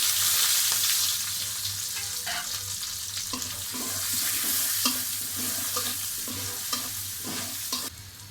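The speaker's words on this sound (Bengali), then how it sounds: "দিয়ে দিলাম কয়েকটা জিরা ফোড়নে, দিয়ে দিলাম কেটে রাখা পেঁয়াজগুলো" Cumin seeds and chopped onions frying in hot oil for a puti fish curry, a continuous close sizzle with repeated scraping stirs of a spoon against the pan.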